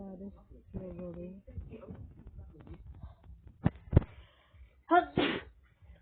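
A person gives a couple of sharp, close sneezes in a Roblox game setting, with a voice talking in between.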